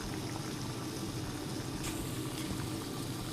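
A pot of water at a rolling boil, a dense, steady bubbling hiss heard close and fairly quiet, unbroken for the whole stretch with no voices.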